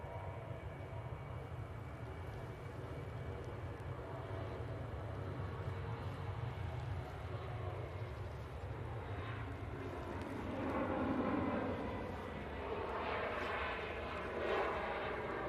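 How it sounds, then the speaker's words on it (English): Turkish Airlines Airbus A321neo inbound from Istanbul on final approach at Manchester Airport, a steady broadband jet rumble that swells and brightens toward the end as the airliner draws nearer. "Next in, we're going to have the Turkish A321 Neo from Istanbul"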